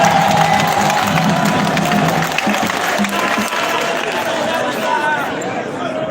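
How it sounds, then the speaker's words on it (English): A large crowd at a party gathering gives sustained loud applause mixed with cheering and chatter, a dense wash of clapping that stays strong throughout. "Give a loud clap to God."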